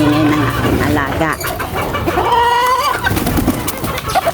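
A pet rooster clucks and crows close by in loud, uneven bursts, with a person talking alongside.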